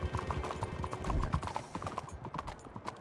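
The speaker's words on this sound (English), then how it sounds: "Hey, let's have these mount up on our horses." Horses clip-clop at a steady trot in the Western video game Red Dead, hooves thudding close and loud for the whole stretch, with an occasional faint whinny.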